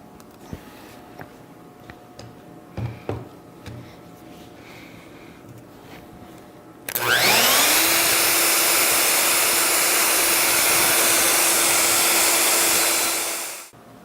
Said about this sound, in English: I went ahead and built this jig to take my collet and a 1/2 inch bit to route out those locations